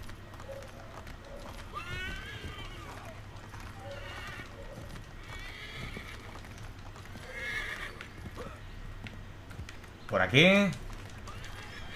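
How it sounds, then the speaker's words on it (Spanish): Horse hooves clip-clop steadily in Assassin's Creed 3 on Wii U, then a loud, close neigh near the end. Someone speaks briefly over the game sounds. "Venga, caballo, deja de quejarte ya, hombre."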